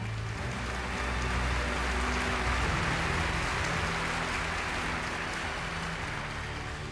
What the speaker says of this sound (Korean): 여러분 박수 부탁합니다